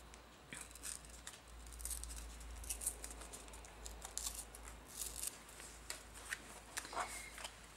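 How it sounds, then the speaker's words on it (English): Olive-green cardstock torn slowly by hand, giving a series of close, dry ripping and rustling bursts with brief pauses, alone without talk. "So I'm going to mat it with the Old Olive cardstock. So I'll start with tearing the Old Olive."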